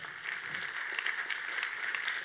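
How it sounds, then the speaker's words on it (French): An audience at a web conference applauds, a fairly faint, steady patter of clapping heard from a distance. "On l'applaudit."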